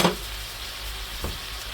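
Onions, mushrooms and peppers fry in a pan, giving a steady close sizzle with a brief stir or clatter near the start and again just past the middle.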